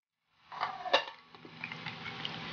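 A spoon scrapes and clinks against a bowl while oil is stirred into cake batter, a series of close, light taps and scrapes with no talking.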